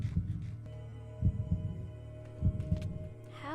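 A fast heartbeat sound effect in a Minecraft game on a survival multiplayer server, with paired low thumps repeating in clusters over a steady background hum, no talking.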